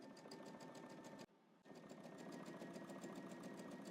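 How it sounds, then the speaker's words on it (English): A sewing machine top-stitches a second row across the fabric of workout shorts, running in a steady, even buzz of rapid stitches that stops briefly and then starts again, close and fairly faint. "we're going to head to the machine and then we're going to stitch across the top here"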